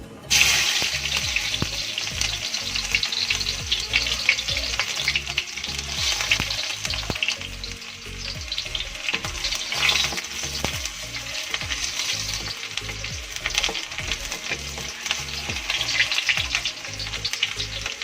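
Steady, loud sizzling of chopped shallots and garlic frying in a hot pan, with repeated scraping and stirring strokes running through the whole stretch; no voices.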